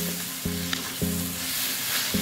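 Chopped tomatoes fry in a pan for a mutton curry, sizzling softly and steadily with a few faint stirring knocks.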